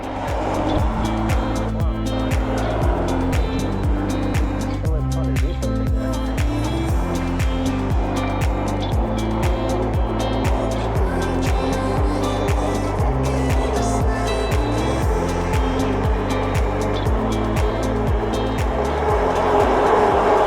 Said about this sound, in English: It's a driving school over here.